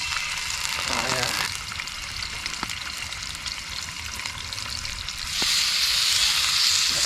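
Chicken breast fries in a pan over a campfire during a rainstorm, a continuous crackling sizzle with occasional clicks and scrapes, the hiss growing brighter and louder near the end, no talk heard.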